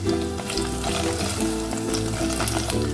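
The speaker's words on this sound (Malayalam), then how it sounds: "ചൂടായ എണ്ണയിലേക്ക് 3-4 മുളക് ഇതുപോലെ കീറിയിട്ട് കൊടുക്കാം." Green chillies slit and dropped into about three tablespoons of hot oil in a pan for a Hyderabadi green chilli chicken curry, giving a loud, steady sizzle and crackle throughout with no talking.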